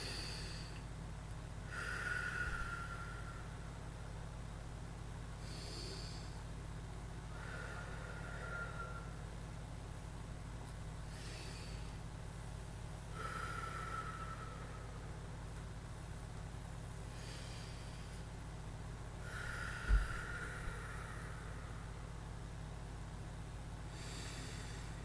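Slow, deep inhales and exhales recur every few seconds during a short seated stretching exercise session, soft and airy over a steady low background hum.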